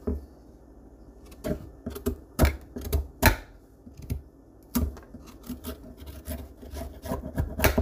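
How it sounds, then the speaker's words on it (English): A knife blade scraping along a raw carrot, peeling it in rough, irregular strokes, each rasping scrape close and crisp with short pauses between them, no talking. "I don't have a vegetable peeler, so I have to use this knife."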